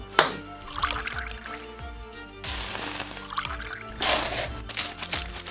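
A drink being poured at a bar in a sound effect for a restaurant commercial, with repeated splashing bursts of liquid and a faint hum underneath, close and fairly loud.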